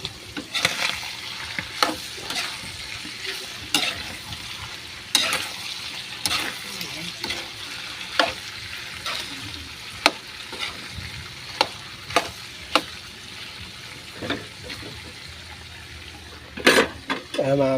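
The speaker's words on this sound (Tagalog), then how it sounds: "Halo-haloin." Food being stirred in a frying pan over a steady sizzle, with repeated scraping strokes of the utensil against the pan at an irregular pace, close and fairly loud, while a voice talks faintly in the background.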